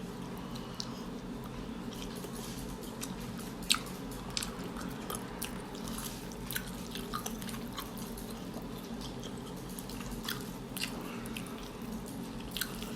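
Steady close-up chewing with small crunches and wet bites repeating throughout, over a low background hum.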